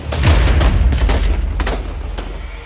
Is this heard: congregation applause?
no